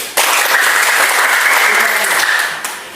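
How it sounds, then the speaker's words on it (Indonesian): A class of children claps their hands together in a sustained burst of brisk, dense applause, loud and close, lasting nearly three seconds before tapering off. "Tepuk tangan dulu."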